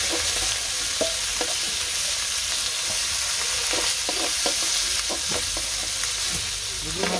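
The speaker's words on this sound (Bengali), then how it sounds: "মাছ ভাজা হয়ে গেছে" Fish sizzles steadily in hot oil in a pan with no one talking, broken by a run of sharp clinks and scrapes from stirring.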